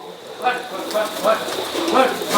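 Pigeons cooing softly several times, low throaty calls rising over a steady background hum, fairly close, on a goat farm.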